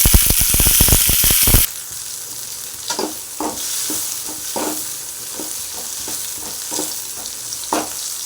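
Tomatoes sauté with softened onions in a pan for an egg curry, opening with a loud rapid sizzling crackle that drops to a steady frying hiss, with a spoon scraping and stirring now and then, close up and with no talking.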